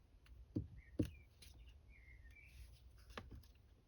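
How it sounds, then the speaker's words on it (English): Small birds chirp and tweet outside in a garden, brief high calls scattered over a quiet background with a few soft knocks nearby, faint and with no talking. "can you hear the birds that are outside in my garden?"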